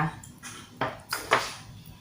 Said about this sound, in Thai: จะใส่ผงปรุงรสดีลงไปสักช้อนหนึ่งนะคะ